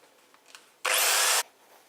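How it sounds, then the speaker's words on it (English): A power drill whines steadily for about half a second while boring a hole into a Protomaker 3D printer build plate, loud and close, with quiet handling before and after. "Let the drill do the work."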